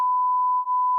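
A single steady censor bleep, one continuous pure tone lasting about a second with a slight dip near the end, covering speech in a casual French podcast.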